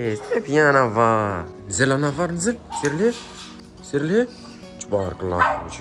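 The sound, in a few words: American bully bulldog barking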